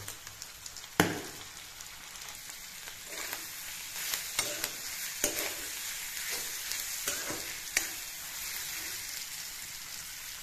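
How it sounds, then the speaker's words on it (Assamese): Pork sizzles steadily in a pan seasoned with salt and turmeric, a close, continuous hiss broken by sharp pops and stirring clicks, with no talking. "এতিয়া এইখিনি অলপ ভালদৰে ফ্ৰাই কৰি ল'ম।"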